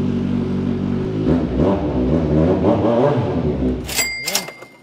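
A 1000cc inline-four motorcycle engine revs hard up close, climbing through several loud, rising pulls before a couple of sharp, high-pitched blips at the end.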